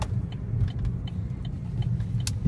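A 2015 Chevy Spark 2LT small hatchback with a CVT on a short test drive, steady low engine and road rumble from inside the cabin, with occasional light rattles and jingles of loose items, no talking.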